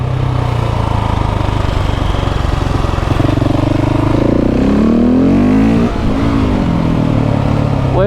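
A KTM 690 SMC R single-cylinder motorcycle with a Leo Vince exhaust roars loudly up close on a Dolomites mountain pass, holding steady throttle then revving up through gears with rising pitch, a brief shift gap and renewed acceleration.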